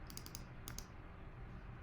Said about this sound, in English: I'm placing and I'm typing gardening tips